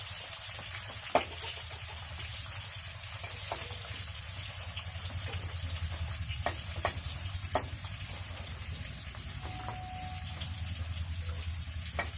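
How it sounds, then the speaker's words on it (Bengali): Vegetables hitting hot oil in a kadai after being squeezed of water, a steady loud sizzle and hiss with a few sharp pops and clinks over the whole stretch. "এগুলো একটু ভেজে নেব।"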